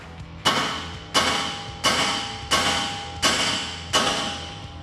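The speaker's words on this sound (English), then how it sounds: "we can take our hammer and give the top of our spindle a couple taps" Six sharp metallic taps from a hammer striking the top of a Dodge RAM 1500 steel steering spindle, evenly spaced about two-thirds of a second apart, each ringing briefly before the next.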